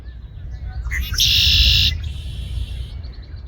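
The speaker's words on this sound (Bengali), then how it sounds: "পাখিরা দারুণ শব্দ করতেছে" Birds call from trees beside a lake in Centennial Park, Mississauga, Canada, a bright chirping burst standing out for about a second over a steady low outdoor rumble, with fainter calls before and after.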